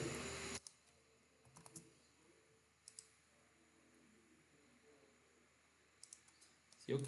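A few sharp, quiet mouse clicks spaced apart, single and in quick pairs, against near silence.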